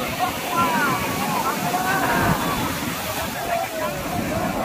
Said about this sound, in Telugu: ఇక్కడ నుంచి అయితే అక్కడ నది నుంచి అయితే వాటర్ అయితే వస్తున్నాయి.